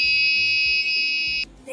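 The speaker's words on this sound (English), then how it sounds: "the red LED constantly blinks and the buzzer is also beeping so more loudly" A loud, piercing electronic buzzer on an automated door system sounds continuously, close by, then cuts off abruptly near the end.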